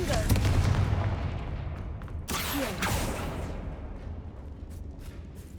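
Confringo fire spell blasts in the Hogwarts Legacy video game: a dense, roaring burst with booming hits near the middle over a continuous rumbling wash, fairly loud and close.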